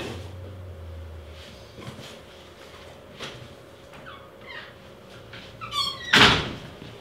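A door at a doorway or entrance sounds with a few soft bumps, then a louder knock or slam near the end, mixed with faint high squeaks in a quiet room.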